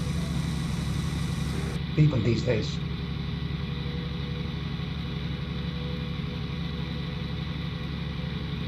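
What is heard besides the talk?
tractor engine in a video game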